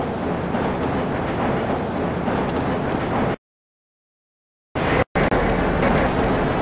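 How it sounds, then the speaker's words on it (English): Black Mesa tram ride in Half-Life: a steady, loud mechanical rumble with airy hiss that cuts to silence partway through, then resumes abruptly. "This train is inbound from Level 3 dormitories to Sector C test labs and control facilities"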